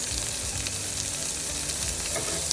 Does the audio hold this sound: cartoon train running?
no